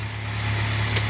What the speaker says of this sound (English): Idles very smoothly. You can hear the RPMs are starting to drop now.